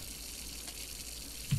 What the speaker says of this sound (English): Is that the sink?